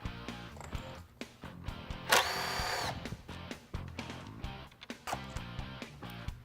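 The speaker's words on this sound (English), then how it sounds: "we'll remove 4 screws with our T25 driver" A T25 driver clicks and whirs in short bursts while taking screws out of a high-speed saw, with a brief buzzing run in the middle and scattered close mechanical taps.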